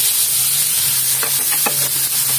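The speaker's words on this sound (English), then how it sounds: "Next to saute is the mushroom." Mushrooms saute in a pan for a Korean bibimbap dish, with a steady loud sizzle and a few short scraping strokes as they are stirred.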